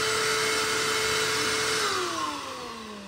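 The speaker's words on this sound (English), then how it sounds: "It sounds like a full-size Shopvac, but it performs pretty well." A micro shop vacuum runs with a loud, steady whine close by, its pitch sliding downward near the end as the motor spins down.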